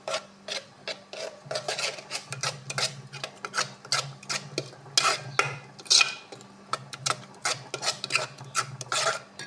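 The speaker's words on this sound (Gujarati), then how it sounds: "હવે મિક્સ કરી દઉં." A spoon stirs and mixes idli batter seasoned with finely chopped green chillies, mustard seeds, cumin and asafoetida, making loud, rhythmic scraping and rasping strokes against the vessel, close and continuous without talk.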